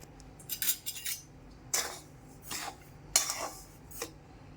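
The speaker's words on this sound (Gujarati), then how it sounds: "આ સોજીને એક બાઉલમાં કાઢી અને ગેસ ઉપર તવો મૂકી" Metal and cookware clatter up close in a kitchen as semolina is tipped into a bowl and a griddle is set on a gas stove, a few separate bright clinks and scrapes with quiet gaps between.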